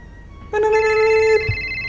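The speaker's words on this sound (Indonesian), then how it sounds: "masuk tuh telepon." Telephone ringing for an incoming call at one in the morning, a single sustained electronic ring tone starting after a quiet moment, loud and close, then cutting off.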